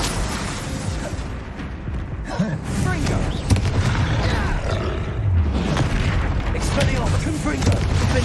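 The Confringo explosion spell goes off in the Hogwarts Legacy video game, with dense booming blasts and mechanical clatter over constant combat noise while a voice calls out during the fight.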